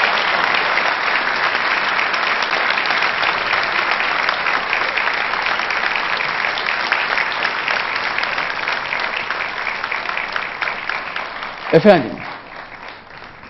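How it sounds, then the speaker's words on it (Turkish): Concert audience applause greets the choir conductor at a Baku–Ankara concert hall event, a steady full wash of clapping that fades near the end as a voice briefly speaks into a microphone. "Sayın şefimize lütfen güçlü bir alkış."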